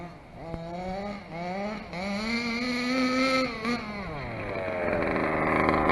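A Dragon Hammer V2 RC car with a G320 engine revs up, its buzzy whine rising and wavering in pitch, dipping and then climbing again, loud and close.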